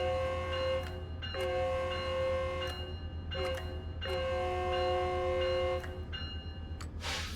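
Metrolink F125 locomotive horn in the Train Sim World 4 simulator, sounding four steady chord blasts with short gaps between them, over a constant low engine drone.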